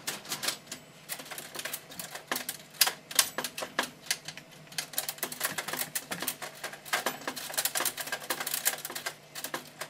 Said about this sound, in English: I was just responding to some of your YouTube comments via my old school typewriter.